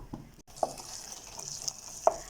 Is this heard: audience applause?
no